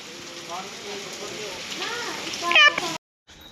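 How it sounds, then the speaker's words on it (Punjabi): Steady, dense hiss of heavy rain pouring down, with a voice talking over it before the sound cuts out briefly near the end. "ਦੇਖੋ ਤੁਸੀਂ ਕਿੰਨਾ ਜ਼ਿਆਦਾ ਮੀਂਹ ਪੈ ਗਿਆ"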